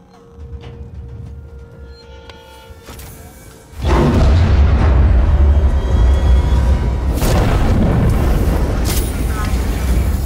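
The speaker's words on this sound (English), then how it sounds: "I don't even know if flashbangs affect them, but I'm about to use it." A flashbang grenade detonates in the Alien: Isolation game, a sudden loud boom that gives way to a sustained roaring rumble and hiss, after a quieter stretch of ambient hum and faint clicks.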